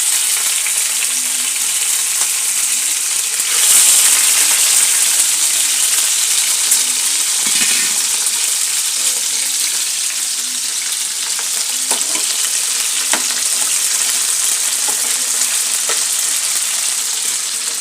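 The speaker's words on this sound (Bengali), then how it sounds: "এবার মাংসগুলোকে আমি দিয়ে দিলাম।" Chicken meat frying in a pan, with a loud steady sizzle and occasional stirring scrapes throughout.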